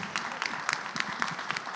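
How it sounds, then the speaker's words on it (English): An audience at a women's leadership conference session applauds the women on stage; the clapping is fairly quiet and somewhat distant, with regular clap peaks standing out from the wash. "Let's give them a round of applause and celebrate them today."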